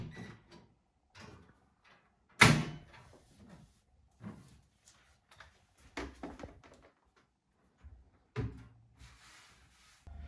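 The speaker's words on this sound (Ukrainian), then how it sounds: "Ставлю на місце шафи дверцята і все закриваю" Cabinet doors are fitted back into place and shut in an apartment kitchen: a series of sparse wooden knocks, clicks and thuds, one loud sharp bang early on, with quiet gaps between the handling sounds.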